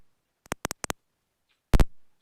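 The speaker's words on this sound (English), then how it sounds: "So they're footstep sounds." Three quick, crisp synthetic ticks in a row, footstep sounds from a retro game on a Tandy Color Computer, then a louder, longer electronic burst with a short tail, all isolated against silence.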